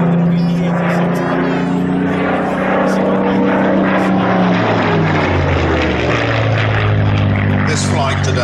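A Spitfire PR XI flies overhead at a Shuttleworth race day, its propeller engine droning loud and close with a falling pitch as it passes, while a voice talks over it.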